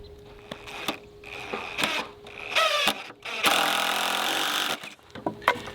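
A power driver sinks screws into a wooden pallet in several whirring bursts, the longest about a second, separated by short clicks and pauses, close and fairly loud.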